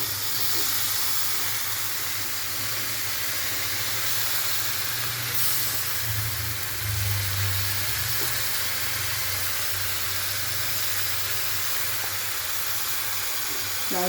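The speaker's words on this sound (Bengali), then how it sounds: "লাউ শাকটাকে দিয়ে দিলাম।" Bottle gourd greens hitting a hot pan for a Bengali lau shaak chochchori, giving a steady, broad hissing sizzle that carries on evenly at moderate loudness with a low rumble beneath and no talking.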